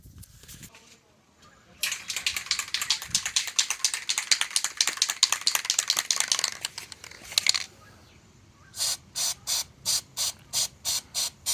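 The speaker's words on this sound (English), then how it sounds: "Let's give that another spray and see what happens." CRC Oil Fighter stain remover sprayed onto an oil-stained driveway: one long continuous aerosol hiss, then a run of about eight short, evenly spaced spurts, close and fairly loud, with no talking.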